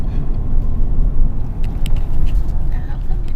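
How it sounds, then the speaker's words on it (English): A 2010 Chevy Suburban SUV rumbles along a rough dirt road off-road, steady low engine and tire noise with occasional bumps and rattles. "Okay, we're off-road now in our Chevy Suburban."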